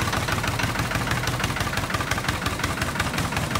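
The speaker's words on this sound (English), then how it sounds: "before it wouldn't idle down at all. Now it idles down." Up close, a diesel engine idles steadily with its injectors freshly bled, giving a loud, even, rhythmic knocking chug with no voices over it.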